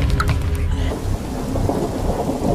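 Steady heavy rain pours down with a deep thunder rumble rolling underneath, loud and continuous throughout.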